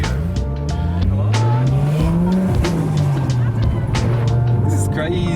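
A Toyota Chaser drives slowly over speed bumps, its engine note rising and falling steadily and close, with faint scraping and knocks on top and someone talking throughout.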